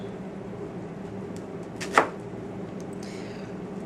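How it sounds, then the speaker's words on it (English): A single crisp knife stroke lands through an onion on a cutting board, one brief sharp cut over a steady low background hum. "I'm using the blade of the knife to feel how far over I've gone on the onion."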